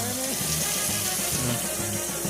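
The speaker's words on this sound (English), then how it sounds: "The first step is to fill it up with water." Tap water runs steadily into a pot for pasta, a continuous rushing gush heard close and at moderate level, with a low tonal hum underneath.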